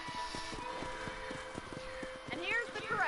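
Steady hoof clip-clops in an even walking rhythm, close and clear, with a horse whinny near the end and faint music beneath, from the video game Red Dead Redemption.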